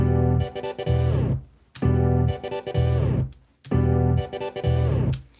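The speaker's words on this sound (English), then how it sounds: "It's a built-in Fruity Loops synth," Fruity Loops built-in synthesizer chords in a repeating pattern of sustained low notes and bright stabs, cycling three times with short gaps between.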